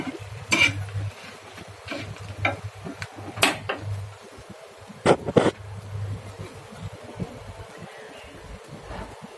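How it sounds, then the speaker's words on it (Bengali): Rotis fry in a pan in a home kitchen, a faint sizzle under a low hum, punctuated by sharp clinks and scrapes of a utensil against the pan at irregular intervals. "রুটিগুলো ছেঁকে নেব"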